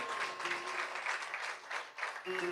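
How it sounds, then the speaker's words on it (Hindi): An audience at a Bhagwat Katha gathering claps for the singers, a soft, even ripple of hands lasting a couple of seconds, fairly distant, with faint tones underneath. "इनके लिए भी आप ताली बजा देंगे"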